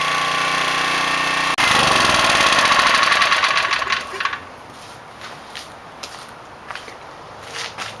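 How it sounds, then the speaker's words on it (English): A portable generator engine runs steadily near the microphone, then sputters out as it runs dry of fuel around the two-second mark, leaving only faint, scattered small noises afterward. "And we'll just leave it run till the gas runs out."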